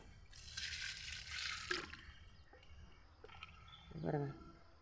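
A water solution poured onto brinjal plants comes in a couple of separate splashing, gurgling bursts, fairly close and moderately loud with quieter gaps between.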